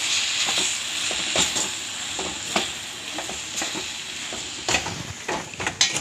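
Spices sizzle and fry steadily in a hot pan for a South Indian kootu, with scattered scraping clicks from a utensil stirring, close and continuous.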